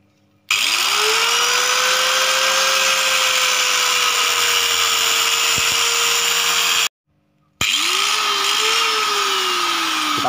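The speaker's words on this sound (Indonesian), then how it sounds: "Kita gergaji lagi." A PVC pipe for a round greenhouse frame is cut with a power saw: a steady, close motor whine that shifts slightly in pitch under load, running in two long bursts separated by a brief pause.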